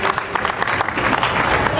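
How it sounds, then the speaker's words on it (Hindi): At a Hindi kavi sammelan poetry gathering, a crowd breaks into loud, brisk applause, rapid clapping filling the short stretch without pause. "एक बार जोरदार तालियां बजा दीजिए उस बाके बिहारी के लिए।"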